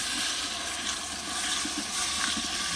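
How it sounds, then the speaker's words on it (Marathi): Water pours steadily into a pan of fried masala for a Maharashtrian masvadi curry, a continuous splashing rush with no voices. "आता आपण पाणी टाकून घेऊ"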